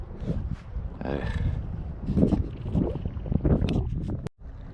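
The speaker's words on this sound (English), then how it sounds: "I don't know what's going on with this crazy wind." Strong wind on the Tennessee River buffets the microphone from a kayak, steady rumbling gusts with water sloshing nearby, loud and continuous throughout.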